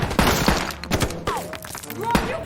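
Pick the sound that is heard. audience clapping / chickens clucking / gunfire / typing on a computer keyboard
gunfire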